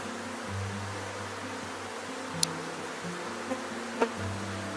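Honeybee swarm on brood comb with stored food, a steady droning hum of many bees close by, holding level throughout with a couple of brief sharp clicks.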